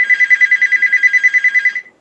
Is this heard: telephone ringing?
yes